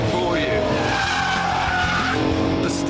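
A car sliding wide as its steering washes outward, tires skidding and squealing over a steady, loud engine drone throughout.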